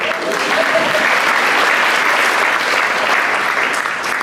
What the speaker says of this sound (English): you can clap for Reverend Tanya.